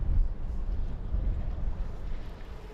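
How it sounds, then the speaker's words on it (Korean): A quiet electric boat motor on the water, a low steady hum and rumble blended with broadband wind and water noise, with no clear engine pulses standing out. "전기 선박에선 나지막이 들리는 모터 소리가 전부."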